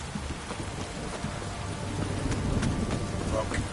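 Steady heavy rain from the video game The Witcher 2 hissing and pattering throughout, swelling slightly louder toward the end, with no voices.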